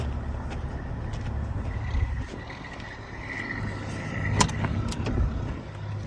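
An auxiliary power unit running on a Volvo truck with a Detroit engine, a steady low mechanical drone with faint clicks and brief higher tones over it.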